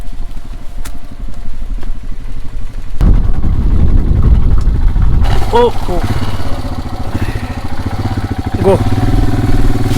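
A motorcycle rumbles loudly and steadily as it rides through a paddy field in a Nagaland village, its engine swelling partway through, while a voice calls out briefly over it.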